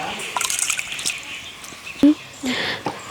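Water sloshing and splashing in a pot of boiling water as washed little millet grains are tipped in, with a few bubbling and trickling sounds close by.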